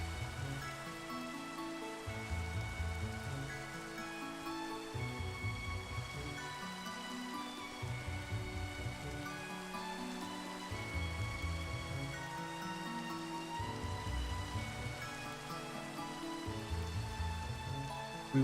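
Steady rain falling in the Minecraft Cobblemon game, a continuous soft patter under a looping melodic game tune, even and unbroken.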